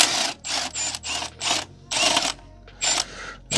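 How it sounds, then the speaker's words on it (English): A ratchet on a 14 mm deep socket works an upper intake bolt loose on a 1985 Merkur XR4Ti, clicking in quick, loud, close bursts separated by short pauses. "I have a 14 mil deep socket"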